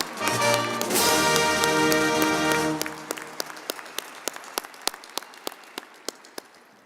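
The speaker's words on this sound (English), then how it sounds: "Join me in applauding their service to this great nation and for their accomplishments." A university graduation audience applauds briefly under a sustained musical tone, then the clapping dwindles to scattered individual claps.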